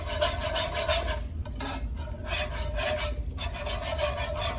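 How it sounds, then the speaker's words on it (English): A whisk scrapes and swirls through broth in a pot, producing a rhythmic rasping sound in repeated quick strokes with brief pauses, close and alone. "Whisk it, stir it."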